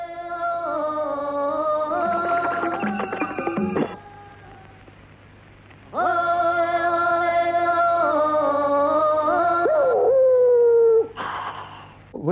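A yellow dog in a Russian animated cartoon howls in long, wavering tones, a loud drawn-out howl followed by a pause and then another sustained howl that ends in a falling whine, with no talking.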